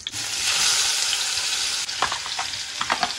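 Onion with cumin seeds frying in a hot pan, a loud steady sizzle at first that gives way to quieter crackling and a few stirring scrapes, with no talk.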